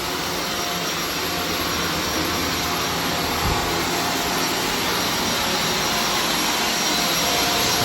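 A vacuum cleaner runs continuously on carpet during cleaning, giving a loud, steady whine and rush of air that holds at an even level throughout, with no voices.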